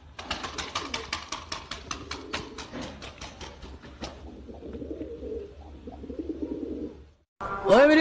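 Fancy pigeons coo close by in a soft, low, steady murmur, after a quick series of sharp tapping or flapping bursts, with a brief louder noise at the end.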